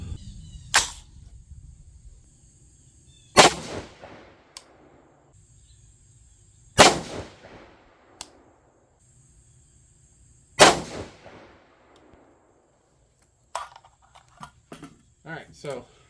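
AR15 rifle chambered in 6.5 Grendel and fitted with an EC Tuner, firing four sharp, loud single shots spaced a few seconds apart outdoors, each followed by a short decay, with a person speaking.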